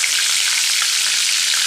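Nigella seeds and four green chillies frying in fresh oil rendered from a large fish, a steady close hissing sizzle that runs without a break.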